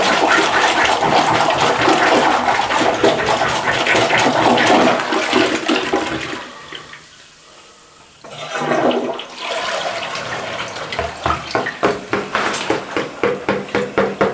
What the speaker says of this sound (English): We're gonna try the plunger.